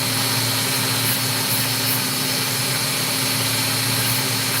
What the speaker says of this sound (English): Cutting opals is quite hard.